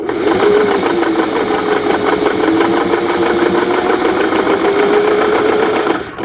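A steady, fast mechanical whirring with a rapid repetitive clatter, continuous and close for the whole stretch, ending abruptly.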